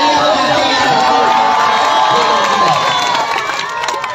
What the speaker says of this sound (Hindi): यार तालियां बजा दे यार अब्दुल्ला के नाम की